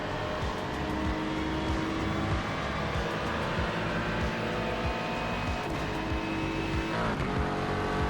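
Racing car engine in a racing video game, droning loud and steady throughout as it closes on and overtakes an Aston Martin around the Spa circuit's Blanchimont, with brief tire squeal near the end.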